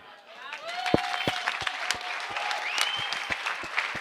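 Church congregation applauding during a sermon, a steady bed of many hands clapping with sharp individual claps standing out, while a voice sings or calls over it in sustained tones.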